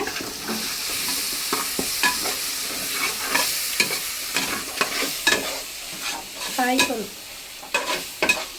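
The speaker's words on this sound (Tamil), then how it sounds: "இஞ்சி பூண்டு பேஸ்ட் வந்து ஆட் பண்ணிக்கிறீங்க." Ginger garlic paste frying in oil while being stirred for chicken biryani: a loud, close sizzle with frequent spoon scrapes and clinks against the pan, continuous throughout, no talk.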